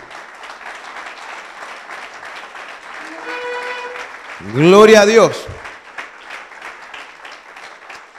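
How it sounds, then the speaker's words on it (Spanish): A church congregation applauds during a sermon with a steady, dense wash of clapping throughout. Someone shouts loudly over it partway through, and the applause carries on softly afterward. "aplauda al Señor"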